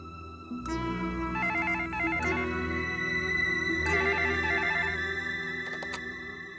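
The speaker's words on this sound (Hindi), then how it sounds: "गणेश के लिए एक औरत ने फोन किया है" An indoor telephone rings with a repeating electronic ringtone melody that plays continuously and loudly over a soft musical background, with no speech.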